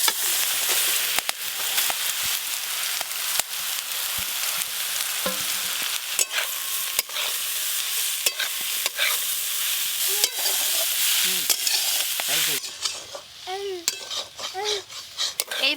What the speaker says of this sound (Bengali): আর একটু সর্ষের তেল দেব, কালো জিরে ফোড়ন দেব, সেদ্ধ করে বেটে রাখা এঁচড়গুলো দিয়ে দেব।